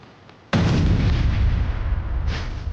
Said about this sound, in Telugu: నిజంగానే మన ఇంట్లో బాంబు పెట్టారు